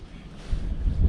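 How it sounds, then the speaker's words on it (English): Wind buffets the microphone while pike fishing with jigs from a boat, a brief low rumbling gust that swells toward the end, close and alone. "The wind is a bit of a killer, to be honest"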